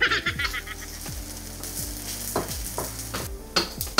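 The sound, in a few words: sautéing onion and garlic together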